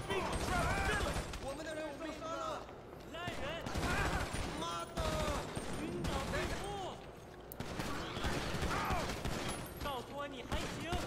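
Rapid gunfire in Grand Theft Auto 5 crackles almost continuously through the clip, dense and loud, mixed with game sound effects and voices talking over it.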